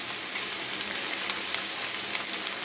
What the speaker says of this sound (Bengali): এখন আমি এগুলি ভালো মতন ভেজে নেব।